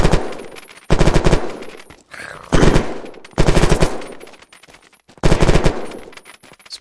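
Automatic secondary weapon with a 250-round drum firing in Unturned: four separate bursts of rapid shots, each under a second long, with short pauses between them, loud and close.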